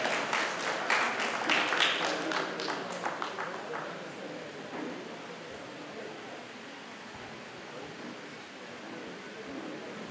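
An audience at a teachers' award ceremony in Solapur applauds loudly, with dense clapping that peaks in the first few seconds and then tapers into softer, thinning claps.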